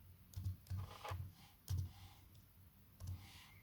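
Short bursts of typing on a computer keyboard, several quick clusters of soft clicks separated by pauses, faint and close in a quiet room.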